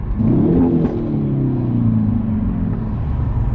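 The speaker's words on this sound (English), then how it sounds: "Hyundai got this exhaust note correct" A Hyundai Veloster N engine revs up hard with a deep, throaty exhaust note, then settles into a steady rumbling drone. Close and loud, no talking.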